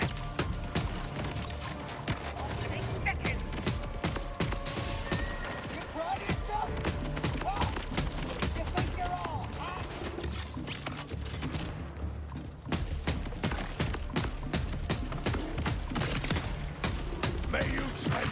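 Rapid weapon fire in Borderlands 4, sounding like a grenade launcher, crackles in dense bursts of sharp shots and mechanical clatter throughout, with a voice speaking intermittently over the din.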